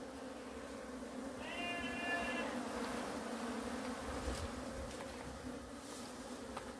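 Honeybees buzz steadily around a brood frame lifted from a hive during colony splitting, a dense close hum, with a short higher-pitched whine rising briefly early on.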